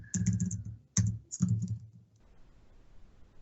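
Keys clacking on a computer keyboard as a PowerShell command is typed, a few quick bursts of close, crisp taps with short pauses between them, then quiet.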